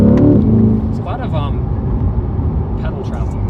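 A 2020 C8 Corvette in sport mode with its exhaust valves open gives a low engine and exhaust rumble that runs continuously beneath a person talking, briefly louder at the start.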